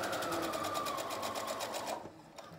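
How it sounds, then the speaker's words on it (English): A sewing machine stitches a cloth face mask with a fast, even mechanical whir of rapid needle strokes, close and steady, before it stops abruptly near the end. "Can sew right over a silk pin"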